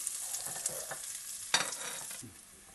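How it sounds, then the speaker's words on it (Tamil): Onion and garlic sauté in a pan for a bell pepper chutney: a steady close sizzle with stirring scrapes and one sharper burst midway, fading toward the end, no voices. "பொன்னிறமாகிற வரையிலும் வதக்கிக்கோங்க"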